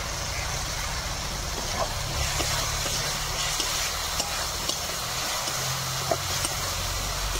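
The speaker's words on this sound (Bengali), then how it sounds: "ভালো করে কষিয়ে নেব মশলাটা। দিয়ে দেবো চিড়ে রাখা দুটো কাঁচা লঙ্কা।" Spice paste with slit green chillies fries for egg curry, giving a steady dense sizzle with scattered clicks from stirring, close and fairly loud, with no voices.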